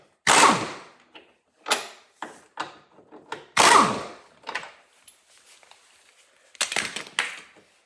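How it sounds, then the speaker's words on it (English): Metallic clinks and ratcheting clacks from loosening suspension bracket bolts on a 2015 Mustang's rear end, several short sharp bursts spaced irregularly, close and fairly loud, with no talk. "I just removed these two bolts right here for this bracket."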